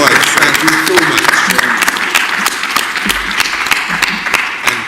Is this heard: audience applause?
yes